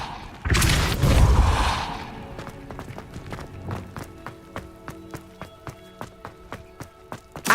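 A Depulso spell cast in Hogwarts Legacy bursts out as a loud, deep whooshing blast lasting about a second, then fades into a quiet run of regular footsteps.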